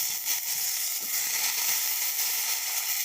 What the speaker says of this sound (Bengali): দিয়ে দেবো আগে তেলের ওপরে।